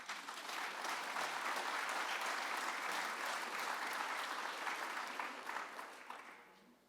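An audience at the 2019 Sullivan Renaissance Awards Ceremony breaks into steady, dense applause that holds strongly for several seconds before tapering off at the end.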